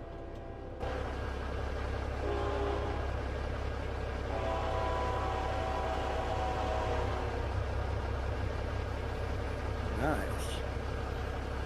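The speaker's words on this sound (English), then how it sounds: "Uh-oh, gotta wait for the train." A train rumbles steadily past a road crossing in American Truck Simulator, a constant low engine drone with a brief rising horn-like tone near the end, as players chat over it.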